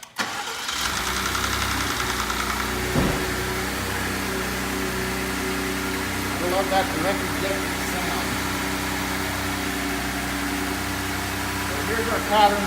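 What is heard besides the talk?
car engine started and idling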